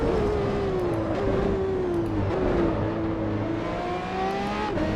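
A race car engine in the Assetto Corsa racing game revs loudly and continuously, rising and falling in pitch as it accelerates and shifts, with no talking.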